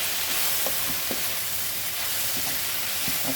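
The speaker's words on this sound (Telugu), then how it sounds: "ఇవన్నీ వేసిన తర్వాత బాగా వేయించాలండి." Okra sizzles steadily while frying in a pan for curry, with a few soft scrapes and clicks of stirring over the constant hiss.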